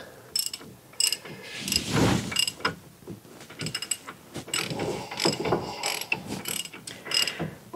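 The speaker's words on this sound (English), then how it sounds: "Now we'll get the ratchet. Now we'll tighten this up." A hand ratchet clicks in quick repeated bursts while tightening brake parts on a Chevy Equinox, the sharp pawl ticks close and fairly loud with brief pauses between strokes.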